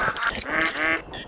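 Ducks quack in the hunting game The Hunter: Call of the Wild, set in a New England mountain map, a short cluster of close, nasal calls heard in about a second with no talk over them.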